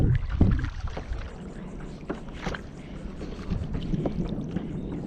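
Kayak paddling on tidal water at Anastasia State Park on a calm day, with soft irregular splashes and drips from the paddle strokes over a steady low background of moving water and light wind.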